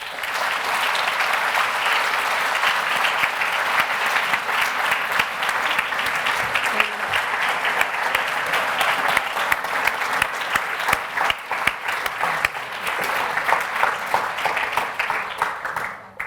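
A lecture audience breaks into sustained, dense applause after a talk on the teenage brain, steady and loud throughout with many hands clapping at once.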